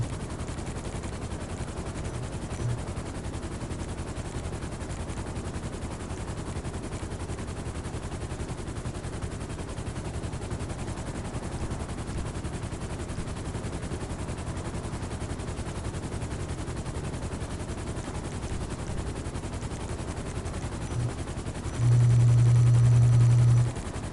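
Sustained gunfire in the GTA Online video game, a dense continuous rattle of shots filling the whole stretch at steady loudness, with a brief louder burst near the end and no talking.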